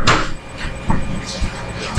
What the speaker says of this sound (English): Do not open my door!